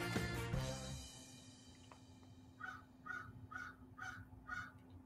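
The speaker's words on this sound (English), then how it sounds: "That is a very loud bird that I can hear from like my peripheral." A loud crow caws repeatedly outdoors, a series of five or so harsh calls in steady rhythm after a brief burst of other noise at the start.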